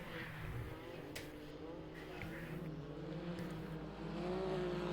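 Pro Mod side-by-side race vehicle roaring across the start-finish line on a dirt race track, a continuous loud engine drone heard from a distance, with crowd and track ambience and faint commentary beneath.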